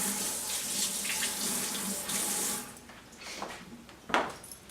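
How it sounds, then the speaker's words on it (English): A kitchen knife rinsed under a running faucet at a sink while stir fry is being cooked: a steady loud stream of tap water, then softer uneven splashing and a sharp clink or splash near the end. "Washed the knife."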